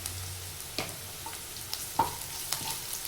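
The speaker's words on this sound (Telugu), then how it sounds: "ఒకసారి ఇలా కలపాలి" Okra fry with ginger paste is stirred in a pan, giving soft scrapes of a spoon and a light sizzle at close range, with no talk.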